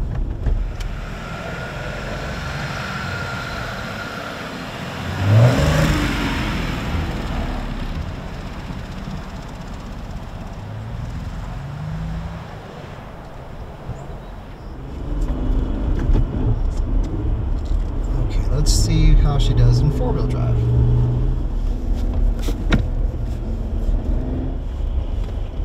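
A bone-stock two-door Jeep JL Wrangler Sport on street tires drives through snow over icy asphalt. A low engine rumble rises and falls under heavy wind buffeting, with a louder surge near the end.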